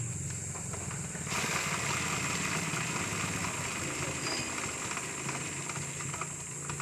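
A Suzuki Raider Fi motorcycle idles steadily, its rear wheel spun up on a stand after brake work, with a constant engine hum and whirring that rises in brightness partway through.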